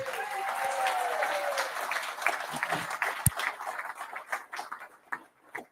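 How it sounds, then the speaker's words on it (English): A crowd at a political party launch event in Newcastle gives a round of applause, loud at first and thinning into scattered claps that fade out over a few seconds. "Give yourselves a round of applause."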